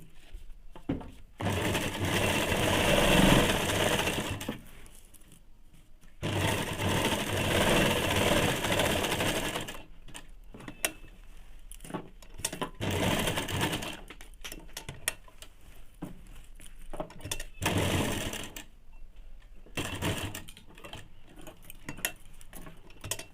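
A sewing machine runs a line of stitching along the belt strip of ladies' pants, with several long, loud bursts of close mechanical whirring separated by pauses filled with handling clicks and rustles.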